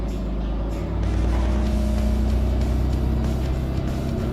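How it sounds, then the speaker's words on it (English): A garbage truck's engine revs up to about 1500 RPM in neutral to drive the hoist, a steady loud low rumble that swells after the first second and then holds a constant drone. "if we go into neutral here, you can put your foot on the gas and run this up to about 1500 RPM"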